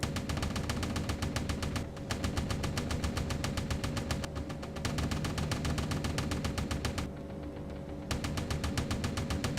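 Anti-aircraft guns hammer away relentlessly in Destroyer Command, a dense, rapid, continuous stream of shots with two short gaps, loud and unbroken otherwise.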